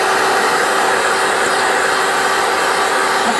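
Electric hand mixer beating eggs with sugar for a chocolate marshmallow cake, a steady close whir holding at one even pitch throughout, with no talking.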